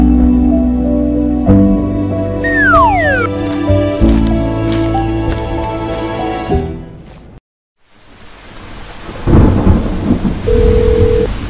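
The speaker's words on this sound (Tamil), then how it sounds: "இங்கே ஒரே மழையாக இருக்குது" A heavy rainstorm in a 2D animated short film begins after a run of tonal music and a brief silence: a loud, steady hiss of pouring rain with a deep rumble of thunder swelling partway through.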